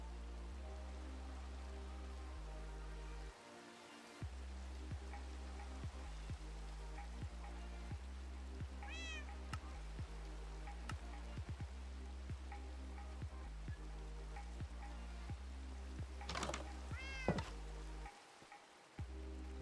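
Minecraft cat meowing, a couple of short rising mews near the middle and end, heard over a steady low game hum and crackle, no talking.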